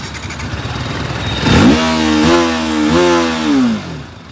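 A TVS Apache RTR 310 motorcycle engine cranks and catches, then settles into a loud, close idle and blips the throttle a couple of times.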